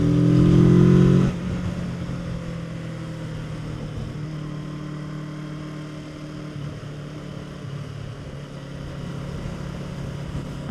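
A Kawasaki Z650 motorcycle rides along a coastal road in Croatia, its engine note steady beneath continuous wind rush after a brief louder burst at the start.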